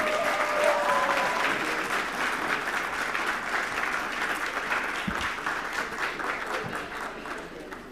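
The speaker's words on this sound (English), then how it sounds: "once more, big clap for the Nutshell team" A hall audience at a summit gives the Nutshell team a big round of clapping, loud and continuous at first and then slowly thinning out toward the end.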